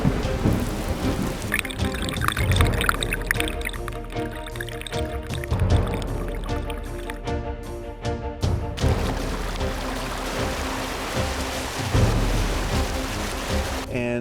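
Heavy rainstorm pouring steadily, with loud, dense rain on surfaces and rolling rumbles of thunder throughout, continuous and close with no voices.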